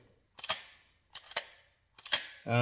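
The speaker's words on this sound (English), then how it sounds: "it rises up when you pull the lever" A Browning BL 22 lever-action rifle has its lever worked in three separate cycles, each a close, sharp burst of metallic clacks and clicks with silence between. A brief voiced sound begins right at the end.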